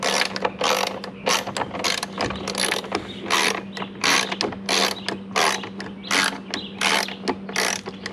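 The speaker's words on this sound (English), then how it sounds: "And you lift your ratchet up a little bit." Ratchet tightening the passenger-side mirror bolt on a 2002 GMC Sierra 2500HD, a rapid series of close, loud clicking pawl strokes in repeated bursts over a steady low hum.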